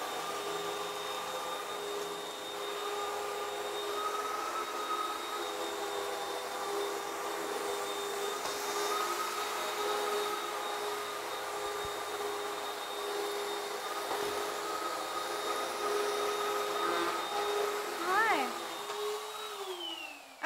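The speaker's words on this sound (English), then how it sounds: "when I do vacuum cleaning of my house" A vacuum cleaner drones steadily throughout with a constant high whine, and its pitch drops as it winds down at the end.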